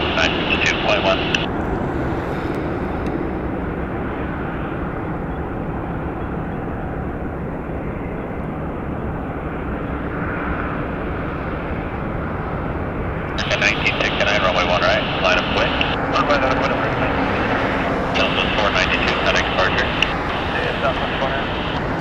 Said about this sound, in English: I do see the Southwest Airlines and its Colorado 1 livery taxiing this direction.